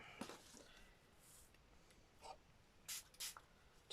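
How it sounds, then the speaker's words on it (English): Several short, quiet hissing spritzes from a spray bottle, a couple of quick bursts close together near the end, with no talking. "Just spraying it with water."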